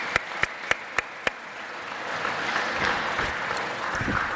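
Applause from a crowd at an athletics hall of fame ceremony, opening with a few loud, separate claps and then settling into steady, even clapping that continues to the end.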